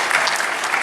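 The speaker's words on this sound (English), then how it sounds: "Round of applause, everybody." A Comic-Con audience claps in a brief, dense burst of applause that stays loud and even throughout.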